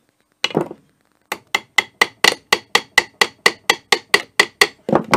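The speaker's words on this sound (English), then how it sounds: "I just drive this pin up through there and up through there, and that just kind of holds everything. There we go. And just a couple little whacks." Hammer blows drive a pin into a bench vise being rebuilt: a single strike, a pause, then a steady run of about fifteen sharp, evenly spaced metallic whacks, close and loud.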